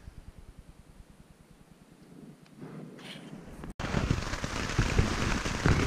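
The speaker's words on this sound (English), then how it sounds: "This is what it sounds like in a rainstorm." Heavy rain patters steadily on a tent during a rainstorm on a mountain ridge trail, faint at first and then suddenly louder and denser, a close, continuous drumming with no voices.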